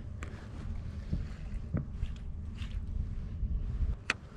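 Wind blowing across a new fishing boat on open water, a low steady rumble with a few scattered knocks and bumps, fairly close, no talking.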